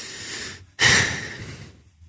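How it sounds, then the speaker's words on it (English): A man takes one sharp, heavy breath in at close range, a brief airy rush that follows a softer exhale and fades away into quiet. "I'm sort of breathing in heavily"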